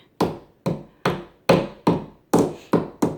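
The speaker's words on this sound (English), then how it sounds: "just give a couple taps on each end till you got them all the way in" Drawer parts of an Ikea Malm dressing table are tapped into place with sharp wooden knocks, eight distinct close blows at an uneven rhythm with no talk.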